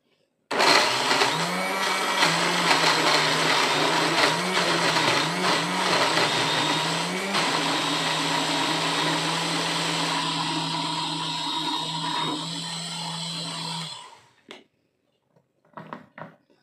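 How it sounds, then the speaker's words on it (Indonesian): An electric blender blends chopped pear pieces, a loud, steady whirring motor with the pitch wavering as the chunks break up, running for about thirteen seconds before stopping, followed by a few faint clinks. "Saya akan memakai blender saja."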